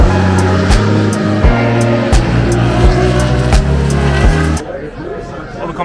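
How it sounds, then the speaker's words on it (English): Loud race cars passing at the Trois-Rivières Grand Prix street circuit, engines howling through repeated upshifts and revving close by before the roar drops away, with crowd chatter faintly underneath. "Those cars are loud."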